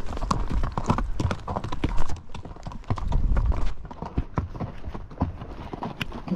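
Horses walk along the Loma Alta trail in hot weather, hooves clip-clopping in a steady, uneven rhythm up close, with rustling and tack noises between steps.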